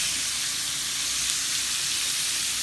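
Steak searing in a hot pan, giving a loud, steady, close sizzle of fat and juices with no pauses and no talk.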